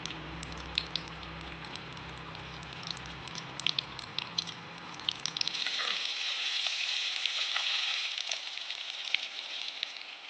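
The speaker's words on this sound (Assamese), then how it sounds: "এতিয়া ভাত কেৰেলাকেইকণ অকণমান ফ্ৰাই কৰিব লাগিব।" Small pieces of bitter gourd frying in a wok over a gas flame, with a steady close-up sizzle and scattered crackles that grow into a denser, brighter hiss in the second half. No one speaks.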